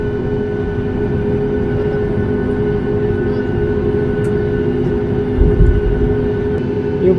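A passenger airliner's engines spool up before a delayed flight from Malaysia to Nepal, heard from inside the cabin as a steady, loud, low roar with a constant hum. The roar swells slightly near the end, and nobody talks.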